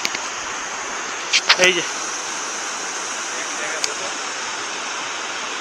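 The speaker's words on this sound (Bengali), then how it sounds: "এখান থেকে আসছে পুরো জলটা, আর এখানে হয়ে একদম নিচে চলে যাচ্ছে।" Mountain stream rushing from its main source at Rock Garden, Darjeeling: a steady, full broadband hiss of flowing water throughout, with a brief spoken interjection and a few small knocks early on.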